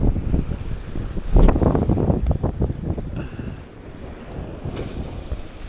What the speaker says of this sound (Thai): โอ้ยลมก็กวนผมอีก